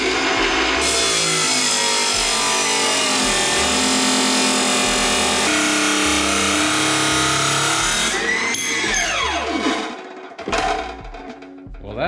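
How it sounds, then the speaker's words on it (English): A loud, harsh abrasive cut through a steel rod grinds continuously for several seconds, changing pitch as the blade bites, then winds down with a falling whine and a few brief bursts. "So I'm going to cut it off here and weld some nuts onto the head of it"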